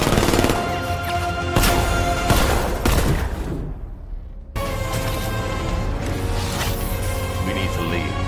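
The Batmobile's riot suppressor in Batman: Arkham Knight fires rapid loud bursts in a video game battle, a brief gap cutting the dense gunfire before it resumes, with game voices mixed in.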